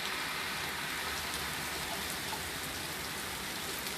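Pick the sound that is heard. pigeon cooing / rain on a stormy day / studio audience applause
rain on a stormy day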